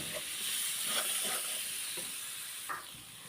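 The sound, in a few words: meat frying with black pepper and spices in a pan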